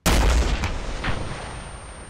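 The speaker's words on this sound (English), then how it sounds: "Rocket, rocket, rocket." A rocket launches in the ArmA 3 military game: one loud, abrupt blast with a deep low thump, then a rumbling tail that fades over about two seconds, with a fainter echoing crack partway through.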